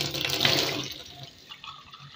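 Water gushes from a kitchen faucet, loud and hissing at first, then settles into a softer steady trickle.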